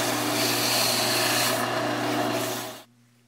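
Sandpaper rubs against a wooden cigar pen blank spinning on a lathe, a steady loud rasping hiss over the motor's low hum that cuts off near the end, leaving only the lathe's faint drone.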